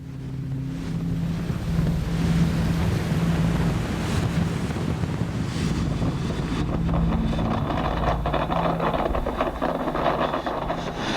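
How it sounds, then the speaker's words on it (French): Sea waves surge and crash over a coastal seawall in winter storm conditions, a loud continuous roar of surf and wind with heavy microphone buffeting and no voices. "Les vagues passent par-dessus à peu près toutes les 6 secondes environ."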